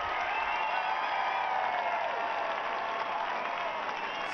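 A largely British crowd at the London 2012 Olympic men's kayak single 1000m semi-final roars and applauds, a dense, sustained wall of cheering and clapping heard from within the stands, steady throughout.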